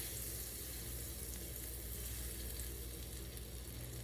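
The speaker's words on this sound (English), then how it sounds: "I'm going to put a tablespoon of butter into the skillet." Tablespoon of butter melting in a hot skillet over medium heat, giving a steady, faint, continuous sizzle with no talking.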